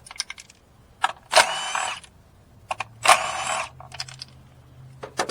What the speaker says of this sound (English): Now we're going to take all 4 of these bolts off the coils.